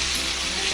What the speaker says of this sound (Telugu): ఈ కొత్తిమీర కూడా వేగాలి.